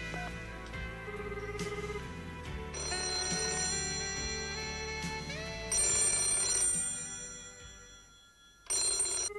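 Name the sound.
telephone ringing, call to grandfather unanswered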